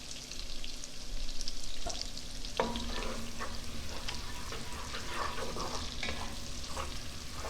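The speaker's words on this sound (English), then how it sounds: "Oh, brown butter and sage." Butter and sage brown in a pan with a continuous, dense frying sizzle, broken by frequent stirring scrapes and light taps throughout.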